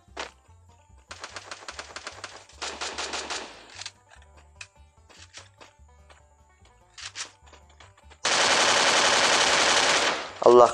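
Machine gun firefight in a video game: close, loud rattling automatic bursts of varying length with scattered single shots in between, ending in a long sustained burst, no talking.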